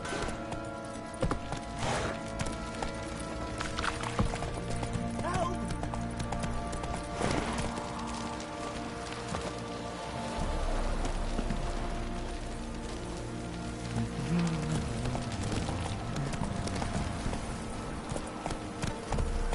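Rapid rhythmic hoofbeats of the horse Roach galloping in The Witcher 3, a steady clip-clop drumming under game music and ambience, with an occasional snort.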